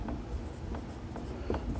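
Pen scratching across paper while a math problem on a sphere is worked out, a few short strokes close and soft against a low room hum, with no talking.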